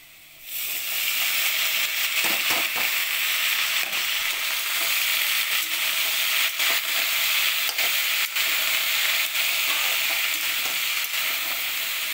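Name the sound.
spring onion stalks sizzling as they fry in a pan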